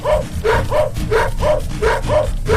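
Cartoon dog barking in a repeated series of about seven evenly spaced, loud bow-wow barks, close and steady with no talk over them.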